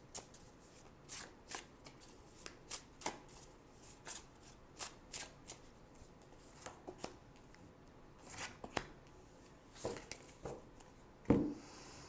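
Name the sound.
shuffling and choosing tarot cards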